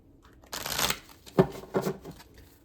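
Tarot cards riffle and slide in a few quick bursts during a reading, close and fairly loud, with short pauses between shuffles and no talking.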